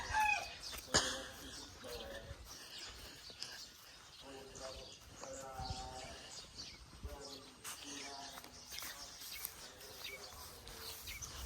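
Farm chickens cluck and call intermittently near a person raising them, the fowl sounds fairly faint and mixed in with ongoing talk.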